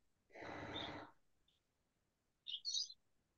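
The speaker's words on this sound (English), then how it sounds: "If you guys hear any birds in the background," Small pet birds chirp briefly at a distance indoors: a faint single peep, then a quick pair of high tweets after a soft breathy sound.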